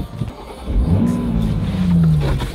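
A Toyota Supra pulls away on its first drive, its engine swelling into a loud, close rev that climbs steadily in pitch, then holds and eases slightly, with no voices over it.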